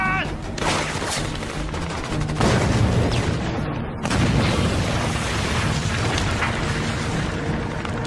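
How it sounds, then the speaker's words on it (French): A grenade goes off in a French action film as a heavy, sustained blast and rumble, a second surge of booming a few seconds in, with gunfire and chaotic battle noise continuing throughout. "Grenade!"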